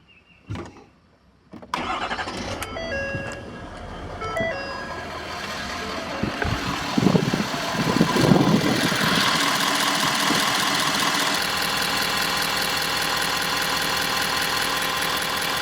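A 2017 Ford 6.7 Powerstroke diesel engine cranks and fires up after a short pause, then settles into a loud, steady idle with a slight vibration. It is close and continuous, with no talking.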